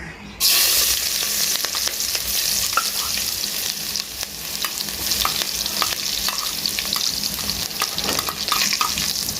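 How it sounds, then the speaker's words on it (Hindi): Ginger and garlic fry in hot oil in a pot, giving a loud, steady sizzle with crackles and spatters throughout, and no voices. "ऑयल को अच्छी तरह गर्म कर लेना है। और उसके बाद जो नेक्स्ट स्टेप होगा वो अदरक और लहसुन को हम अंदर डालेंगे हांडी के"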